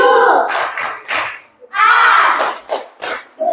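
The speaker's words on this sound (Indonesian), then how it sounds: "Mari kita tepuk salut untuk Aziza." Small group in a teacher coaching session performing a rhythmic clapping cheer, several sharp claps in patterned bursts between chanted voices.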